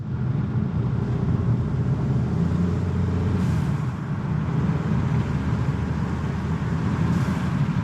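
A VW Tiguan fitted with a diverter valve spacer revs steadily with a loud, full engine drone, broken by two brief airy hisses a few seconds apart.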